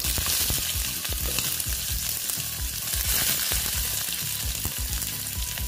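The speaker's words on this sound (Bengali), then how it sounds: "দিয়ে আমি পেঁয়াজটাকে ভালো মতো ভেজে নেব।" Steady, loud sizzling of chopped onions frying in hot oil with garlic, with occasional stirring scrapes, continuous throughout with no voices.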